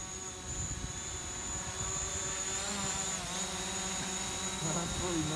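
A drone hovers outdoors at a bushcraft site, giving a steady high-pitched motor whine with shifting tones, moderately loud and continuous, alongside low broadband rumble.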